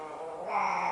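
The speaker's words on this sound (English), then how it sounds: "sorry about the cat noise" A cat gives a short, low, rising grumbling yowl, close by.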